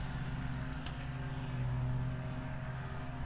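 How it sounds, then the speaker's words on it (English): A riding lawnmower runs nearby outdoors, its engine a steady low drone with a slight swell partway through, heard alone without voices. "There is somebody riding a lawnmower to my left,"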